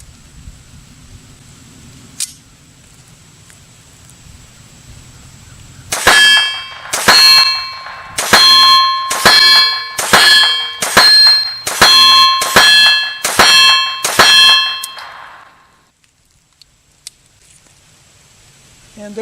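A magazine of Remington Golden Bullet .22LR rounds is fired in a quick run of about ten sharp, ringing cracks at a fairly even pace, framed by quiet stretches before and after.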